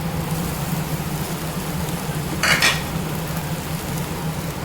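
Beaten eggs go into a hot frying pan with peppers and carrot and are stirred, giving a steady close sizzle with a low hum beneath and a brief scraping clatter of utensil against pan midway.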